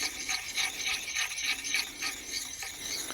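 An axe bevel being sharpened with a short sharpening stone, a steady scraping rasp of stone on metal repeated in several strokes, close and fairly loud with no talking.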